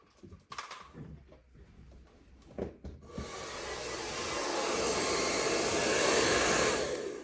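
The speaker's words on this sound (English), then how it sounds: "I just got a hair dryer off camera here." A few clicks and handling knocks, then a hair dryer switches on and blows with a steady, loud whooshing roar that holds to the end.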